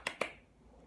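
Two quick, sharp hand claps ring out close together in a quiet room, each with a short bright snap.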